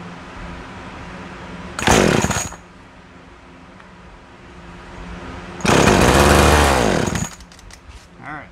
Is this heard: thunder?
no